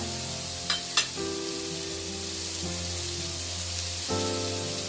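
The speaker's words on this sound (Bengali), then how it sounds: "এগুলো ভালো করে নাড়াচাড়া করবো" Amla, Indian gooseberries being made into a pickle, fry in a pan with a steady, even sizzle. A couple of sharp scraping clicks from stirring come near the start, and tonal background music plays underneath.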